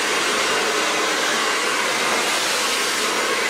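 A hair dryer roars steadily and loud at close range while hair is blow-dried quickly with a brush, a constant broad whoosh filling the whole stretch with no talk over it.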